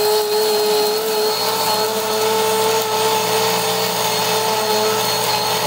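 A blender runs continuously at high speed grinding dried mushrooms into fine powder, a loud steady motor whine with bright harmonic tones and no pauses.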